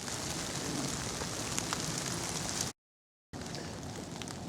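Steady rain falls during a hardwood splitwood fire challenge outdoors, a dense even hiss of drops on surfaces that runs continuously, breaks off briefly, then resumes at the same level.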